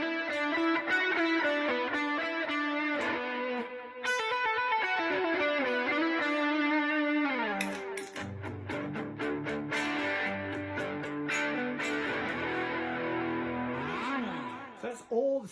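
Electric guitar played through a Line 6 Helix with a boost for solos and riffs, bright sustained distorted notes and bends giving way to heavier lower chords and a fuller, driven tone.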